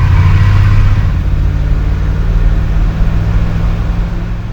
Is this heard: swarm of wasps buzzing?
no